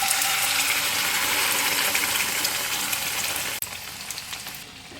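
Loud, even sizzling of batter hitting hot oil that drops off sharply near the end, leaving a quieter crackle.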